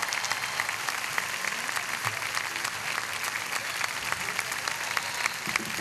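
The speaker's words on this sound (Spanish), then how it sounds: "un fuerte aplauso para estos jóvenes" Steady, dense clapping from a concert audience at a symphonic mariachi performance with a youth symphony orchestra, sustained at an even level throughout.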